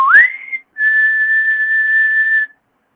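A person imitates a whistle they heard outside in the desert: a short rising whistled note that holds briefly, then after a pause one long steady whistled tone lasting nearly two seconds, clear and alone with no talking.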